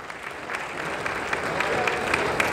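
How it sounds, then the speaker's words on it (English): Steady applause from an audience at a football award ceremony for Sadio Mane, winner of Best African International Footballer, a dense continuous clapping with a crowd murmur and a few sharper claps standing out. "Please put your hands together for him."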